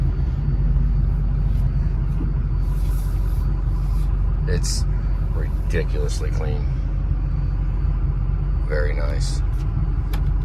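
A new pickup truck with a swapped-in Subaru engine drives along, its steady low engine and road rumble running throughout beneath close conversation inside the cab.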